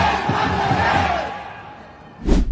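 Crowd of student protesters in Pakistan chanting slogans together, a loud massed roar of voices that fades briefly before surging again near the end.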